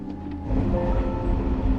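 Passenger train running on the way home, heard from inside the carriage as a loud, steady low rumble with a rhythmic rattle, no talk.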